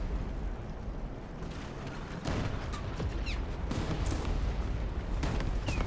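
Artillery fire in a video game, heard as dense, continuous rumbling bursts and cracking blasts over a constant roar of battle noise.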